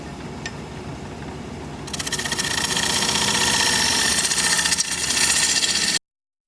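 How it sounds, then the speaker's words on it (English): A wood lathe spins at 930 RPM while an Easy Wood Tools CI5 hollowing tool cuts into a maple bowl: a steady low drone thickens into a denser, rougher cutting roar after about two seconds, then stops abruptly. "we're going to get to hollowing this bowl out. 930 RPM"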